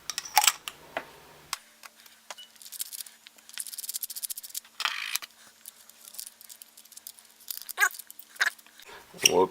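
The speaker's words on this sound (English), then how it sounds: "we'll go ahead and put an 18650 battery in here to show you" Small metallic clicks, rattles and scrapes come close and intermittent as an 18650 battery is slid into an Innokin iTaste SVD vape mod and its threaded tube is handled.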